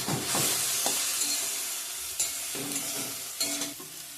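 Chicken gizzard curry fries in a pan with grated ginger added, giving a steady close sizzle broken by a few scraping stirs of a spoon.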